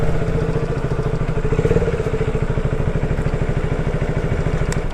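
A motorcycle being parked idles close by with a fast, even putter of engine pulses and light mechanical clatter. It swells briefly, then settles back to a steady idle with no voices.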